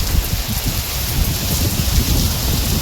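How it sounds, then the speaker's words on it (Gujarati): Heavy rain pours steadily outdoors on a windy Navratri night, a dense continuous hiss with low rumbling gusts throughout and no voices. "જો તો ખરે વરસાદ"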